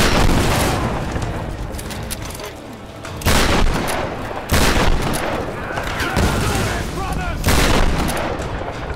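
Rapid bursts of gunfire and booming shots from Tomb Raider (2013) erupt repeatedly, with several loud blasts standing out over a dense, continuous firefight and a voice speaking at times.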